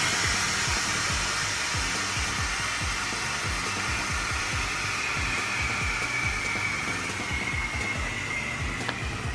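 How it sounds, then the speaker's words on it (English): Pressure blown off the arm of a brewery tank, a loud, continuous airy hiss with a fast low pulsing beneath it, steady from start to finish. "Go ahead and blow the rest of the pressure off of the left arm over there."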